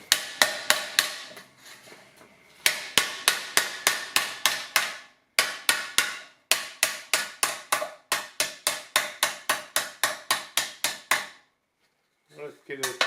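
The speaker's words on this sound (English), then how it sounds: "I'm trying not to talk and hammer at the same time." Sharp, ringing hammer blows on sheet metal, struck in quick rhythmic bursts of a dozen or more strikes separated by brief pauses, close and loud while shrinking with a tucking fork on inner upper door supports.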